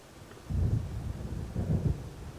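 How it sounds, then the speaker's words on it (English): Low rumbling thunder from a coming storm in the video game Alan Wake, rolling in two swelling waves over a dull, steady background, moderately loud and without speech. "It seems there's a storm coming."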